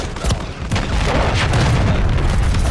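A precision airstrike explodes in Call of Duty MWIII, a heavy booming blast with rumbling low-end and crackling debris that sustains loudly across the whole moment.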